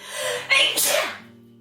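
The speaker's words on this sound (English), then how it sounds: "I have to sneeze" A single sharp sneeze bursts out close by, preceded by a brief inhale, with faint background hum underneath.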